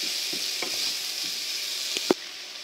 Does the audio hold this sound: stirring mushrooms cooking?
yes